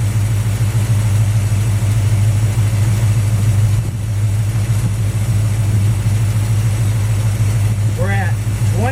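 A Plymouth Duster engine idles steadily at just under 800 RPM, a loud, continuous low rumble with an even rhythm. A brief faint chirp comes near the end.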